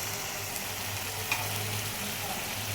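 Spice paste sizzles steadily in a hot pan after a little water is added, a constant fry hiss with a low hum underneath and one brief clink partway through.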